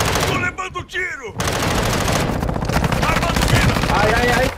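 Rapid machine-gun bursts and gunshots in a Call of Duty Warzone match, dense and loud, with a voice over the firing.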